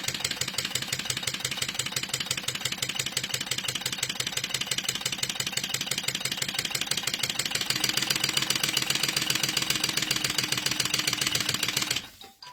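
A sewing machine stitches around the curve of a crossbody bag, running in a fast, steady mechanical rhythm close by for about twelve seconds before stopping abruptly.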